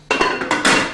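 A metal pot lid settles onto a saucepan with a couple of quick clanks and a brief rattle, close by.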